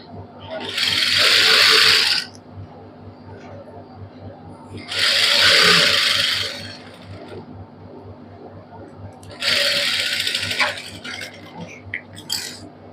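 Sewing machine running a basting stitch along the hem of a printed suit, three separate bursts of fast whirring needle chatter, each about two seconds long, with quiet handling of fabric between them.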